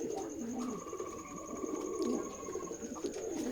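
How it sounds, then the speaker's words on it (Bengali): Pigeons coo in low, soft, repeated calls at a pigeon farm in Keshabpur, Jessore, layered over a steady hum with faint chirps and no talking. "এটা আমাদের ফার্ম হাউস কবুতরের খামার"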